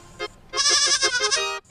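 A goat bleats up close, one short call followed by a long, loud, wavering bleat with a pulsing tremolo, standing out clearly over a quiet background.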